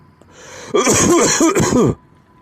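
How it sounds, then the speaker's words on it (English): A burst of several harsh coughs in quick succession, loud and close, lasting about a second with quiet before and after. "It's a cough, folks."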